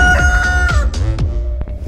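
Chickens cluck and squawk close by in a quick burst of calls, loud and busy with no talking.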